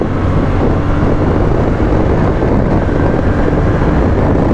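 Yamaha Tenere 700 World Raid (2022) motorcycle accelerating to overtake on the road, a loud, steady engine roar heavily mixed with wind rush for the whole stretch, without pauses.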